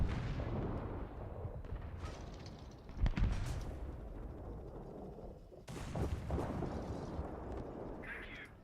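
Tank cannon fire and explosions in the tank combat game War Thunder, heavy booming bursts under a dense battle rumble, with one sharp nearby blast and scattered distant shots.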